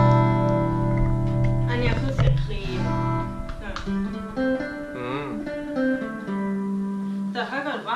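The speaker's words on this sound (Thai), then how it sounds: "ใช้ดีจูนมันก็จะเหมือนพิชเบนไปนิดนึง" A voice is run through the detune pitch effect of a vocal effects unit, giving a slightly doubled, pitch-shifted sung tone with wavering, bending notes, heard clearly up close.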